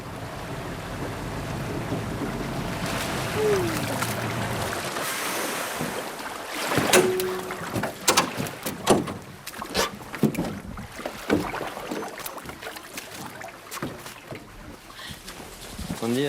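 A water taxi boat travels upriver on the Rio Negro in the Amazon, with a steady engine drone and rushing wind. Water slaps and thuds against the hull in the later part, loud and close.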